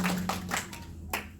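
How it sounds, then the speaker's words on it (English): At a community group meeting, a handful of scattered handclaps sound from a small audience over a low room hum, sparse and uneven rather than full applause. "Give him a round of applause."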